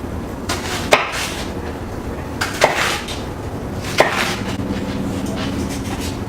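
A knife cuts asparagus on a cutting board, giving three sharp, distinct chops spaced a second or two apart against a quiet kitchen background, close and clear with no talking.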